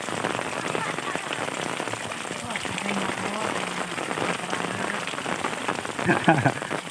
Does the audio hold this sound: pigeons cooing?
no